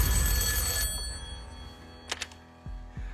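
A telephone rings on the Deal or No Deal game show, a bright electronic trill that cuts off abruptly and is followed by two brief chirps and some low studio thumps.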